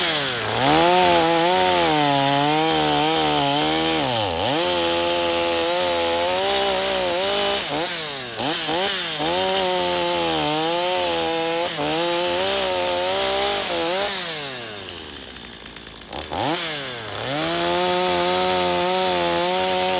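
A STIHL MS250 chainsaw under repair runs close and loud, its engine note wavering up and down through uneven revving and an unsteady idle, dipping briefly near the end before picking back up.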